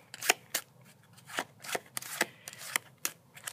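Playing cards shuffled and flicked by hand while being sorted from ace to king without looking, a run of close, crisp riffles and snaps with short pauses between, heard alone.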